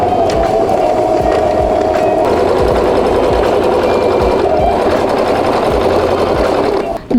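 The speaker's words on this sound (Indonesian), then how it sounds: "setelah kita jahit 1 kali seperti ini, kita akan menjahit 1 kali lagi dengan stik besar" A sewing machine stitches fabric about 1 cm from the edge for a beginner's gathered skirt, running loud and continuous with a fast steady hum and clatter, with a brief change in pace partway through.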